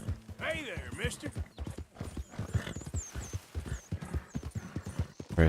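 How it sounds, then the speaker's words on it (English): A horse in Red Dead Redemption 2 gallops with rapid rhythmic hoof clip-clops and lets out a whinny near the start, while someone talks over it throughout. "Alright, slow down a bit. Catch your breath there,"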